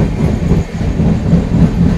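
A crowded passenger train rolls into Jaleswar station, a loud steady rumble with rhythmic clickety-clack of wheels over rail joints, heard close from on board with no talk.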